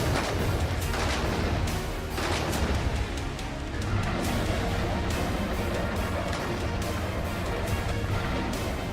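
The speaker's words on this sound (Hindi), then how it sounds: "गरजती हुई तोपें दुश्मन को चेतावनी दे रही थी।" Continuous heavy booming and rumbling of Indian Army artillery guns firing during a military exercise near Siliguri, dense and loud throughout, with repeated blasts layered over one another.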